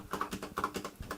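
Typing on a Razer BlackWidow V3 Mini Hyperspeed keyboard with yellow switches, about nine quick close key presses in an uneven rhythm, with no other sound.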